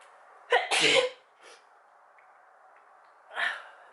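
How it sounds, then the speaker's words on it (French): A single loud sneeze with a sharp intake before it, followed by quieter breathy sniffs in an otherwise quiet room. "Depuis qu'il refait beau, j'arrête pas d'éternuer"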